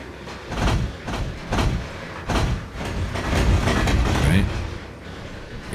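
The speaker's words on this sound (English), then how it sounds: "Here comes another train. Look out." A train passing in the Trainz 2022 railroad simulator on the C&O Hinton route, with rhythmic clickety-clack bursts of wheels over rail joints and a rumbling roll, loud and close, with someone talking over it.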